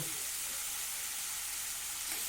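Water goes into a pan of potatoes frying in spices, and a steady, hissing sizzle of the cooking continues without pause.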